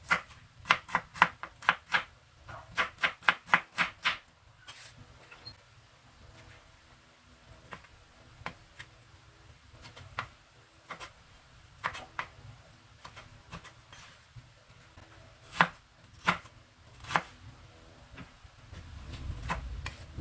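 A knife chops onion on a board, starting with a fast run of sharp, close knocks and then thinning to slower, scattered single chops.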